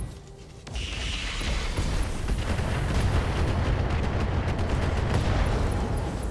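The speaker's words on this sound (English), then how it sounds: "We did get a little bit of landmines exploding there" Landmines detonating in the mech combat game RogueTech: a sudden booming burst that swells into a sustained, loud rumbling roar of explosions lasting several seconds, with no talk over it.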